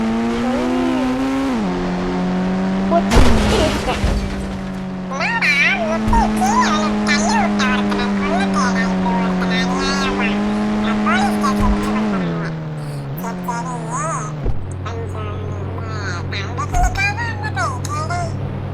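A car in the Indian Bike Driving 3D game revs steadily with a droning engine tone that rises and drops as it shifts, with tire squeals and bumps along the way. A voice talks throughout.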